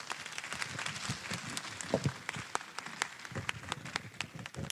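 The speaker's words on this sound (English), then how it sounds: "Thank you for warm clap." Warm applause from a forum audience at an international Buddhist monastic gathering, a steady wash of many hands clapping at moderate distance, with scattered louder claps standing out.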